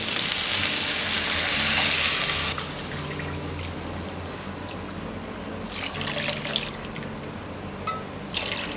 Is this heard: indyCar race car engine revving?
no